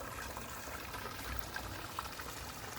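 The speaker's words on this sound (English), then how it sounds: "So here's the waterfall I'm working on." A backyard waterfall spills into a fish pond with a steady, close rushing splash that holds even and unbroken throughout, with no voices.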